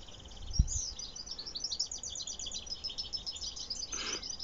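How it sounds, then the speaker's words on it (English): Birds sing and chirp at a distance, bright repeated twittering calls over soft outdoor background, with a brief low thump near the start. "Just listen to that bird song."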